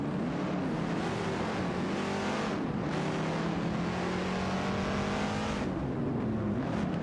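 Engines of a Ford Fairlane 66 and a Chevrolet Camaro Z28 racing in a simulated AI race, a continuous loud drone with shifting pitch as revs rise and fall, no talk.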